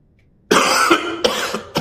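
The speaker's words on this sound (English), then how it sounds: "First cough." A man coughs several times in a row, close and loud: one long harsh cough followed by two shorter bursts, with quiet before the first.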